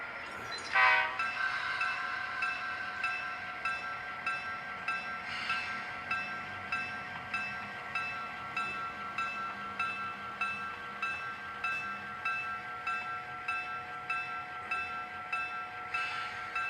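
An Athearn DCC GP7u model locomotive in Wisconsin & Southern livery runs on a model railroad track. Sustained sound-effect tones hold steady while a soft rhythmic chuffing pulses underneath, with a brief louder burst near the start.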